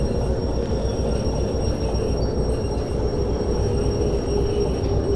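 A train in the Derail Valley simulation game rumbles as it slows to a stop, a steady loud mechanical roll with a faint high whine over it.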